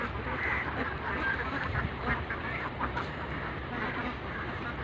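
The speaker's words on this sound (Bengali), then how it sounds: "এই যে পানির ভিতরে হাঁস অনেক" Ducks swimming on the water at a duck farm quack in a steady, crowded chorus, a dense continuous flock sound at moderate distance with no voices over it.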